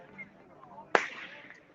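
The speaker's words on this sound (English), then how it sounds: "That's a firework." A single sharp firework bang cracks once mid-clip amid a street protest crowd, sudden and fairly close, followed by a brief decaying tail over quiet background murmur.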